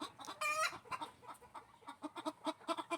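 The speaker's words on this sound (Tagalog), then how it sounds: "Ang ingay ng mga manok. Kutak ng kutak." Hens cluck in short, scattered bursts around a brief crowing call, fairly faint and a little distant, with no one speaking.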